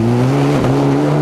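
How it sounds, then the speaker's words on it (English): A rally car in the 2011 Galway International Rally drives through floodwater, its engine holding a loud, steady drone with a brief dip in pitch partway through the short burst. "The Munster joinery car is carving through the floods"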